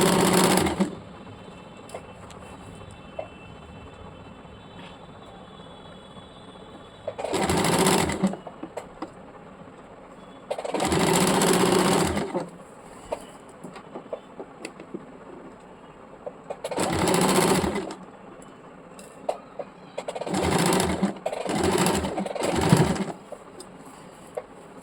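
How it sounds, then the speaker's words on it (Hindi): A sewing machine sews a round seam on petticoat fabric in several separate bursts, a few seconds each, with quiet gaps between them and no talking. "इसी प्रकार हम लोग नीचे वाला कपड़ा खींच खींच के पूरा गोलाई से एक सिलाई डाल देते हैं।"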